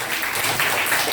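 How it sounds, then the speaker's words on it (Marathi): A classroom of students claps to congratulate a student named best of the month, a short, loud and busy round of hand clapping with no talk over it. "टाळ्या वाजून अभिनंदन झालं"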